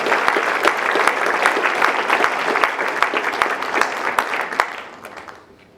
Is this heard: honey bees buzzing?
no